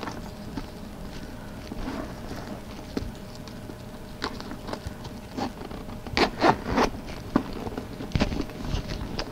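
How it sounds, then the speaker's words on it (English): A zipper runs along a Dooney and Bourke handbag in several short rasping pulls, close and fairly quiet, mixed with handling rubs and taps. "it zips up"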